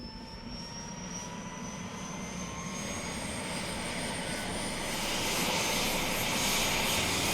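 Steady rotor and engine roar of a helicopter flying inside an active volcano crater, a constant dense drone that swells slightly louder toward the end, with no voices.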